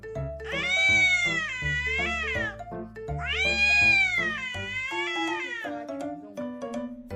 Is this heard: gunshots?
no